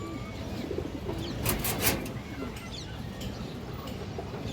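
A female pigeon coos in a low, throaty run among other birds at a pigeon sale, with steady background murmur and a brief louder burst midway.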